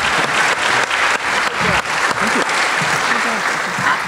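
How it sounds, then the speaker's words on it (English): An audience at a state and local panel on the Chesapeake Bay cleanup, with the Choptank River as a test case, gives a sustained round of applause: dense, steady clapping from a crowd filling the room. "I'd like you to give them a round of applause."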